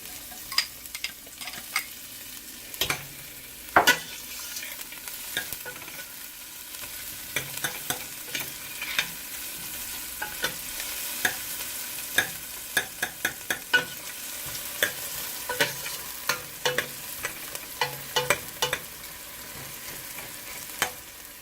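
Onion dropped into hot oil with crackling whole spices for vegetable pulao, a constant sizzle broken by sharp pops and scrapes of a spoon in the pan, close and unaccompanied by speech.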